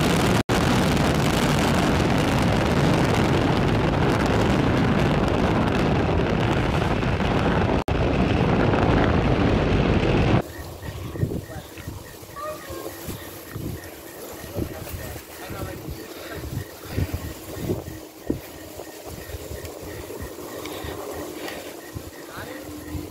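A SpaceX Falcon 9 rocket lifts off carrying the Merah Putih 2 satellite, a loud continuous crackling roar that cuts abruptly to a much quieter, distant rumble with voices in the background.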